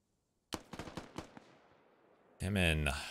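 In the video game Squad, a quick burst of gunshots rings out, roughly eight sharp cracks in under a second that echo away, and then a voice starts talking.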